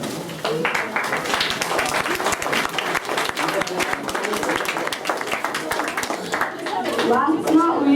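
Hearty applause from an audience assembled at a youth convention, dense overlapping clapping sustained for the full stretch at steady loudness, swelling slightly near the end, with a few voices faintly mixed in.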